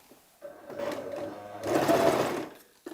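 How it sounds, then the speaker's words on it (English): A sewing machine runs a 1/8 inch seam along a 1 inch deep hem on a kaftan dress, giving two short close bursts of rapid whirring stitching with a brief slower patch between them. "So sewing with a 1/8 inch allowance"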